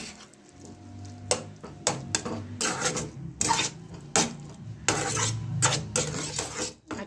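A spoon stirs chicken filling with tomato paste and soy sauce in a metal pan, giving repeated scraping, clinking strokes in an uneven rhythm, fairly close and moderately loud, with no talking.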